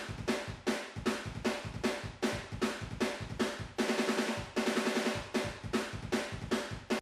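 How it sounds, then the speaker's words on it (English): A heavily compressed pop punk drum kit captured through a room mic rattles along in a steady, driving beat, with pumping, roomy hits and washy cymbals, loud and unaccompanied. "So a bit of compression on my One Kit Wonder pop punk room."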